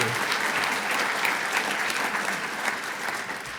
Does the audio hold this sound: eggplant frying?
no